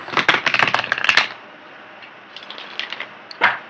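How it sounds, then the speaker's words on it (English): A deck of tarot cards is shuffled in a quick, close burst of riffling clicks and flutters for about a second, followed by quieter scattered card handling and a final short shuffle. "So let me get the cards shuffled here and then we'll see what's going on with you guys."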